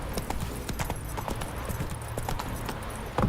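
Roach, Geralt's horse in The Witcher 3, gallops with fast, rhythmic hoofbeats thudding steadily at close range over faint game ambience.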